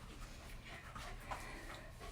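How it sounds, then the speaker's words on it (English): Dogs pant and whimper softly indoors during a home kids' yoga session, a steady, breathy rasp that stays faint and close throughout. "The dogs make it very challenging."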